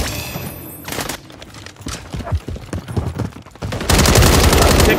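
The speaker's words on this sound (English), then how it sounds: "Taking effective fire." Bursts of gunfire crackle in Call of Duty Modern Warfare 3 multiplayer, with rapid, close shots in irregular clusters and a dense final volley, all loud and sharp.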